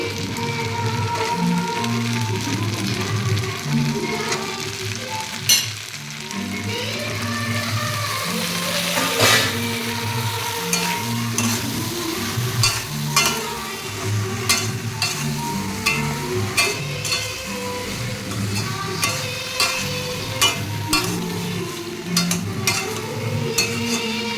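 Okra sizzles loudly as it fries in a pan, with steady stirring and scraping strokes over a continuous crackle of hot oil. No one speaks.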